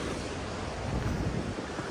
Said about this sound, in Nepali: हिमालको चिसो पानी